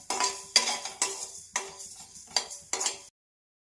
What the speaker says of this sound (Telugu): వీటిని చిటపట అనేంత వరకు వేయించుకోవాలి.